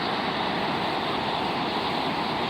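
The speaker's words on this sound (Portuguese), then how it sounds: "para gravar essa beleza, essa cachoeira muito linda que tem aqui" A waterfall at Carmo do Rio Claro, Minas Gerais, where a river runs past an old hydroelectric plant, gives a loud, unbroken rushing roar that stays even from start to finish.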